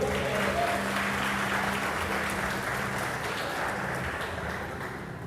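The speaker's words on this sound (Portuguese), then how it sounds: "Você pode aplaudir ao Senhor?" A church congregation applauds together during a worship service, a dense, sustained wash of many hands clapping that fills the room and slowly eases off toward the end, with no clear speech over it.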